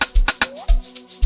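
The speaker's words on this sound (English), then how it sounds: "this is how my pad X sounds like" Caustic 3 pad X synth in an amapiano sgidongo beat, a sustained tonal pad with a gliding pitch under punchy kick and bright percussive hits, loud and close, with no talking.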